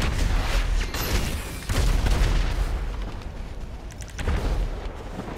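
Gunfire and explosions in the video game GTA 5 come as dense, loud bursts of rapid shots and booms, sustained through the clip.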